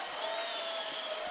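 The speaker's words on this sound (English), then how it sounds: "That was Larry Vanover applauding." Applause from umpires and fans at a night baseball game honoring Naval Academy midshipmen, a steady wash of clapping and crowd noise across the short stretch with faint public-address tones underneath.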